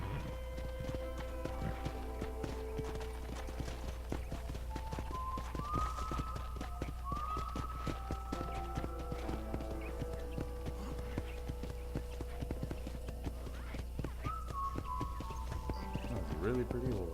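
Horse hooves clip-clopping at a ranch in the video game Red Dead Redemption, a continuous rhythmic stream of hoofbeats with occasional whinnies, under in-game music and speech.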